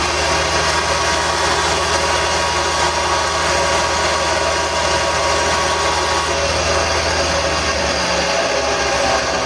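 A wood lathe spins steadily while an ambrosia wood tool handle is sanded, making a continuous loud motor hum with broadband rushing noise and a slight change near the end.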